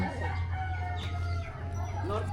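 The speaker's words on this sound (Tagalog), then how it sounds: "Ayun, ang daming inahin dito." Chickens, including many hens, cluck and a rooster crows faintly amid a steady low hum at a poultry loft, with farmyard bird calls scattered through the clip.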